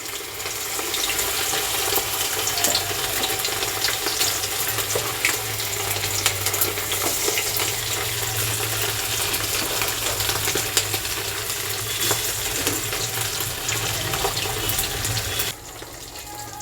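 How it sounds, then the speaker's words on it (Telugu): Chicken pieces fry in hot oil in a loud, dense, continuous sizzle with crackling spatter throughout, close up and without talk, easing slightly near the end. "ఇప్పుడు నేనైతే చికెన్ అనేది ఇందులో వేసేస్తున్నాను. వేసేటప్పుడు జాగ్రత్తగా ఉండాలి, చిట్పట్లాడుతూ ఉంటాయి కదా."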